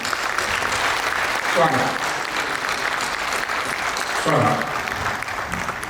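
An audience at an NHPC Hindi poetry gathering applauds steadily to welcome a poet, with the clapping swelling in a couple of places while a voice calls out a greeting over it.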